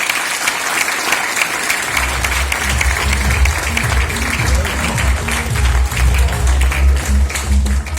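A seminar audience in Siliguri, West Bengal, breaks into loud, sustained applause after a brief quiet opening, many hands clapping densely and continuously to the end, with some crowd noise mixed in.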